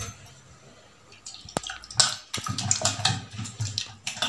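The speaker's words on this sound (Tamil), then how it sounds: "கொஞ்சம் தண்ணி ஊற்றிக்கலாம்." Water poured from a vessel into a potato masala mixture for bonda filling, a soft splashing trickle that starts after a quiet moment and continues in uneven bursts, close and moderately loud.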